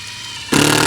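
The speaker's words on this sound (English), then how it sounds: "Let's get some screws in here." A power driver suddenly whirs to life, driving a screw into solid deck wood during a repair; the loud, steady motor buzz starts abruptly and holds to the end.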